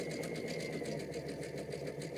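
A sewing machine stitches a ruffle strip over cording for a pillow, a close, steady, rapid mechanical chatter that holds constant with no pauses.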